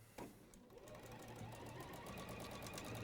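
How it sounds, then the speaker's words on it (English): Close, quiet sewing machine running a back stitch on fabric, a brief knock followed by a steady rapid mechanical whirr. "I'm going to back stitch that just so we can secure that"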